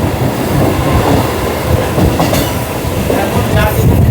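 A Sealdah to Amghata local train runs along the track near a railway crossing, its loud, close rumble and rhythmic wheel clatter filling the whole stretch with a few metallic squeals.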